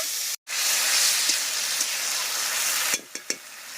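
Water splashed into frying spice masala in a pan for winter vegetable khichuri, a loud, steady steam hiss and sizzle filling the clip, broken by a brief drop near the start and a few sharp clinks toward the end.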